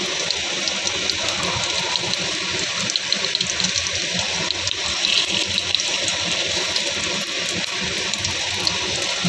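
Besan-coated stuffed pointed gourds being fried a second time in hot oil, giving a steady, close, fairly loud hiss and sizzle with a dense crackle running through the whole stretch and no talking.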